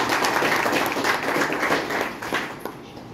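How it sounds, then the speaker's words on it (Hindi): Applause from an audience at a Safe Shop achievers' gathering in Jharkhand, a dense steady patter of many hands that keeps up for the whole stretch and thins a little toward the end. "फिर से एक बार अपने जिंदगी को बदलने के लिए जोरदार ताली"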